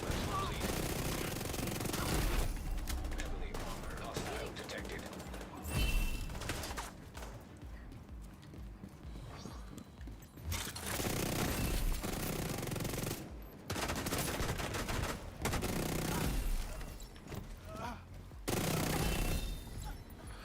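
Sustained bursts of rapid automatic gunfire in The Division 2 with a golden bullet in play, loud and dense, pausing briefly between volleys, while a voice talks over the shooting.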